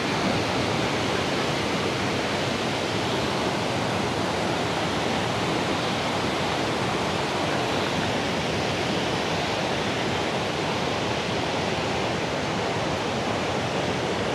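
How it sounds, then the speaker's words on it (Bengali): Athirappilly waterfall pours down in a constant, loud, broadband roar of falling water, unbroken and steady from start to finish with no other sounds standing out. "দেখুন এই জলটা পড়ছে নিচে, এই পড়ছে, এই যাচ্ছে।"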